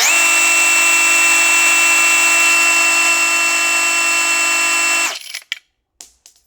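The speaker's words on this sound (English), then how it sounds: "turning it on should cause the collet here to spin." Cordless palm router motor running steadily at high speed with a bare spinning collet, a loud constant whine that cuts off abruptly, followed by a few faint clicks and rattles.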